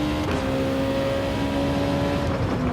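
A racing car engine in a driving game holds a steady high drone at full throttle, with a sustained tonal whine that dips briefly and then climbs again.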